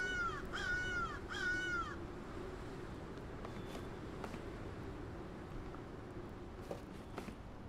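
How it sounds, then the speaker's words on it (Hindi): Crow in the video game Secret Neighbor gives three close, clear caws in quick succession, followed by quiet ambient background with faint thuds. "ये कौवा इधर की साइड है कसम से"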